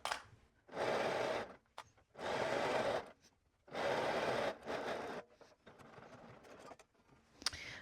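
A sewing machine stitches the neckline of an Irving dress in three sustained runs of steady, whirring motor buzz, each roughly a second long, with short quiet pauses and soft handling noises between them.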